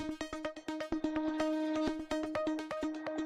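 A fast run of gritty, heavily saturated synth notes from the Heavyocity Gravity 2 software instrument, repeating in a tight rhythm, sounding dense and buzzy, alone without any talking.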